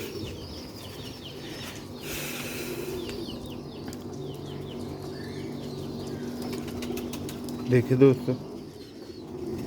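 Pigeons, silver-eyed Sialkoti birds, coo softly in a loft with brief wing flapping and chirps, a louder burst of cooing near the end, while someone speaks a few words over them.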